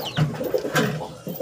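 A pigeon coos in a series of soft, low, throaty phrases, close and fairly clear, with a brief pause before a final coo; no voice is heard.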